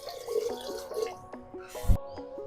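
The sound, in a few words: water poured onto rice for biryani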